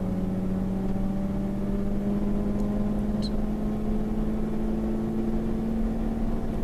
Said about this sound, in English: we've got the number 63 Toyota MRS, or ZZW30 MR2 of Alan Thompson.